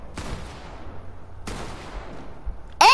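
Gunfire in a multiplayer shooter game with glitching, two sharp bursts a little over a second apart, each trailing off, followed by a louder harsh burst at the end; no talking.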